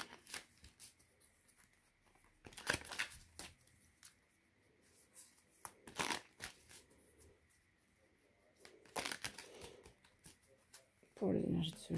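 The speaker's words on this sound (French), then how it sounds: "Allez, on va se faire un tirage en 3 cartes avec l'oracle Lumière." Oracle cards being shuffled for a three-card reading, giving soft intermittent riffling and rustling bursts close by under a person talking.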